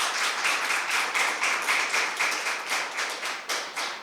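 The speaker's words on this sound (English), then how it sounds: "A round of applause." A small audience at an impromptu speaking competition final claps for a winner, with rhythmic, fairly sparse clapping in distinct beats at close range and no talking.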